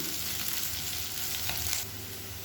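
Potatoes roast in oil in an uncovered pan, giving a dense, even sizzle up close that eases slightly near the end.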